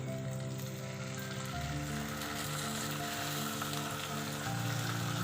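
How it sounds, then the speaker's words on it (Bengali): Tofu sautéing with tomato sauce and dark soy sauce in a pan, a continuous close sizzle with some stirring noise, steady and moderately loud, no talking. "এবার একটু এটাকে ভালো করে সটে করে নেব।"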